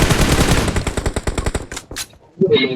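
Rapid automatic gunfire in a 3v3 shooter video game, a loud close burst of fast rattling shots that tapers into a few separate bangs, then a brief lull and more game noise.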